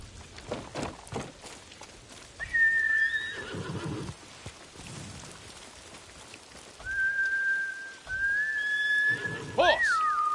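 A horse whinnies and neighs loudly in several drawn-out, wavering calls, with a brief clatter of movement early on and no talking.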